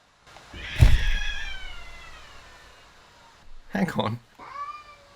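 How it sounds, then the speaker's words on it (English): A house cat gives a couple of loud, close, drawn-out meows, one stretched and wavering, alongside a thump; a person speaks briefly between the calls. "Is that a cat?"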